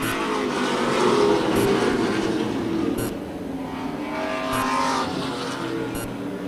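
A 1936 Chevy coupe race car runs on an oval track at a senior tour auto racing event, a steady engine roar heard from a distance with rising and falling pitch, without talk.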